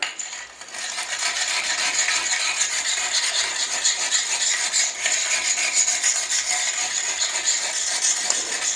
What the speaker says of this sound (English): It sure sounds like a stone on stone, doesn't it?